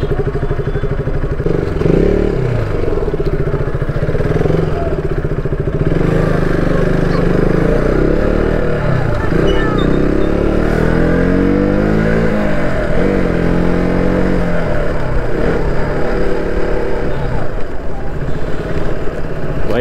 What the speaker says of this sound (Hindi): तो बिल्कुल धीरे चलाना पड़ता है, तो अच्छा ही है यार धीरे ही चलाना चाहिए बाइक